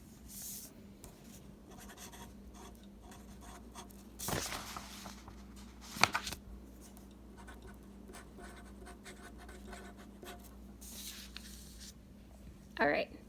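A pen scratches across paper as geometry notes are written down, giving faint, soft scraping strokes with a few sharper rubs and a louder scratch burst near the end.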